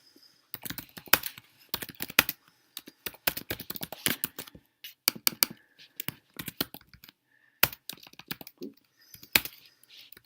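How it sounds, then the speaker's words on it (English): Fingers type text on a computer keyboard in quick bursts of clicky keystrokes with short pauses between runs, close and fairly clear. "all you have to do is just type in your text"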